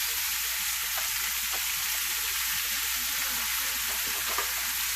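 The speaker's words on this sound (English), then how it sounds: "Like I said, I got my skillet nice and hot. I'm gonna brown all this up." Al pastor pork browns in a hot skillet with a steady, dense sizzle and crackle of fat that holds constant throughout, close up and unbroken by any voice.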